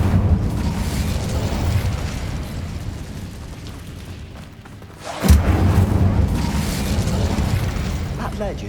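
The Incendio fire spell in Hogwarts Legacy bursts as a single loud, close whoosh-boom about halfway through, set against a steady low rumble of game ambience, with a voice talking nearby.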